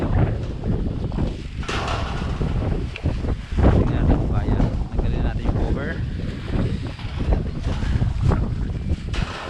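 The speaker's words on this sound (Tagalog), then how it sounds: "lakas talaga promise lakas ng hangin" Strong wind buffets the microphone in heavy, roaring gusts throughout, with a person talking beneath the blustery noise, outdoors before flying a DJI Mini 3 drone.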